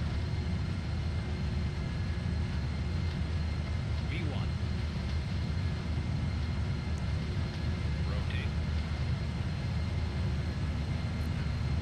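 A Boeing 747F freighter in FSX rolls down the runway on its takeoff run, its jet engines a steady, loud broadband roar with a low rumble that holds constant throughout.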